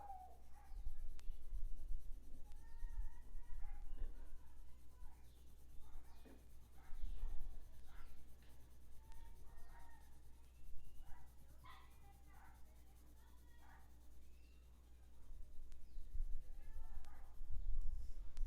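A pencil scratches on paper in a run of soft, irregular strokes and scribbles, faint and close over a low steady hum.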